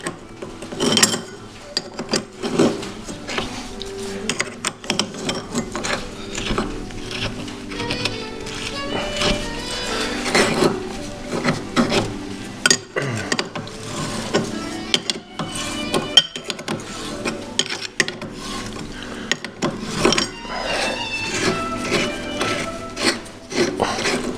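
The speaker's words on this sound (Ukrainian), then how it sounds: "У мене є ключ для неї спеціальний. Називається той ключ сегментний." A segment spanner wrench turning a nut on a shaft and housing under repair: close metallic clicks, scrapes and ratcheting knocks come in uneven bursts, over a faint background hum.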